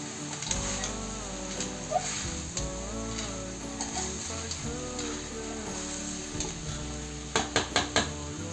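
Cooked rice is stirred and tossed in a pan for Kashmiri pulao, giving a continuous soft sizzle with scraping strokes, then a quick burst of sharp metal clinks near the end.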